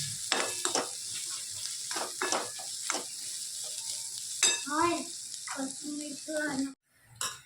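Roasted spices poured into simmering dal hiss in a steady, bright sizzle that carries through the whole moment, with brief voices and kitchen clatter rising over it near the end before a short pause.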